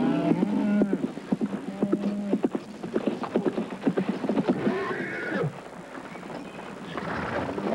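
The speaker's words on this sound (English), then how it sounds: "It's his horse. It's back." A horse arrives on a frontier ranch, its hooves clip-clopping nearer in a quickening run and then slowing, with a whinny at the start and again near the end, over faint outdoor background.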